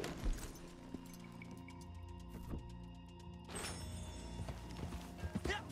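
Steady horse hoofbeats clip-clop at a trotting rhythm in Red Dead Redemption 2 Online over a low rumbling game soundtrack, with a few sharper thuds near the end.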